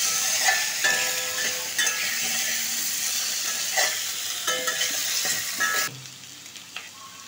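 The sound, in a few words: potatoes with spices being stir-fried in a pan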